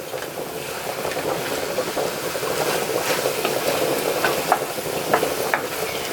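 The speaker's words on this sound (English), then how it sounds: "So I just want to go ahead and toss this around so it could get that flavor from the" Salt mackerel tossed with seasoning and coconut in a hot pan gives a steady sizzle and stirring scrape, continuous and close, with no talking.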